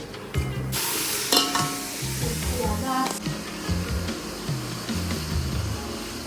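Tomatoes tipped into a frying vegetable biryani base in a home kitchen send up a steady sizzle, with stirring clinks, bursts of scraping and a voice chatting intermittently over the cooking.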